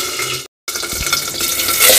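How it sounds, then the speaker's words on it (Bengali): Eggs fry in mustard oil in a wok with a steady crackling sizzle, briefly cut off by a short gap, then resuming with scraping stirs and spatters building louder toward the end. "ডিমটাকে প্রথমেই আমি ভেজে নেব।"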